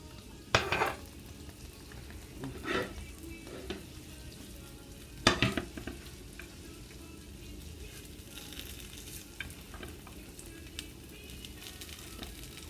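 Butter sizzling in a frying pan while pancakes cook, a steady close crackle and hiss throughout, with a few sharper clinks and scrapes of a utensil against the pan.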